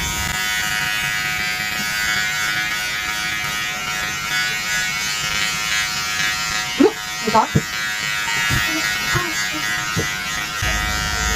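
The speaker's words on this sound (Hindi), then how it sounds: "अब मैं ये वाला ब्लेड यूज़ कर रही हूँ। इसकी आवाज़ ज़्यादा तेज़ है।" A Krypton five-in-one electric epilator runs with a loud blade attachment, giving a steady close buzz with a few sharp clicks near the end, while someone talks over it.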